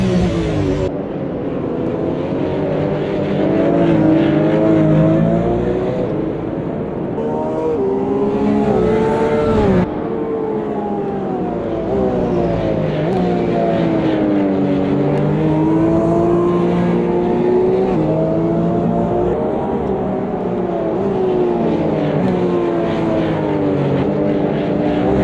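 Porsche Cup race cars at the Long Beach Grand Prix street circuit: a loud, close engine howls steadily, rising and falling through gear shifts across the whole stretch, with no talking.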